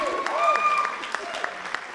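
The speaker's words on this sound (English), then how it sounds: "we got a cheering section" Board of education meeting audience clapping and cheering, a fairly faint steady patter of applause with a few sharper claps and voices mixed in.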